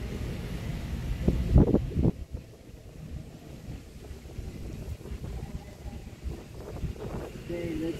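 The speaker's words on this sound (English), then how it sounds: "Oh, it's windy." Low rumbling wind buffets the microphone throughout at a lotus pond, with a louder gust early on and faint voices now and then beneath the roar.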